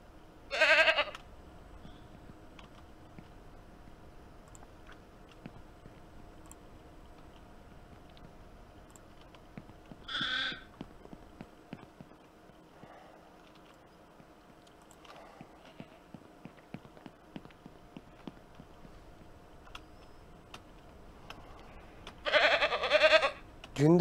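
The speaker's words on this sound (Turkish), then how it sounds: "Bayağı bir keçimiz var." Goats in the Ranch Simulator game let out a few loud bleats, spread apart, at the start, middle and end. Faint clattering and a low steady hum run between the calls.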